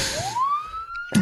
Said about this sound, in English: I think I can hear sirens again.